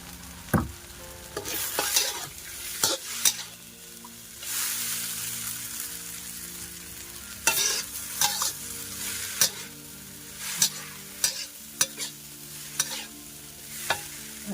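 Mama instant noodles stir-fried in a pan with a little oil and fried garlic, giving steady sizzling broken by repeated sharp scrapes and clacks of the spatula against the pan, close and fairly loud, with no talking.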